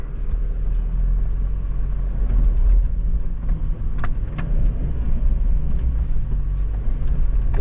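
A 4WD vehicle crawls slowly up an off-road climb on Mt Studholme without diff lock, its engine a steady low rumble throughout, with faint clicks and rattles on top and no talk.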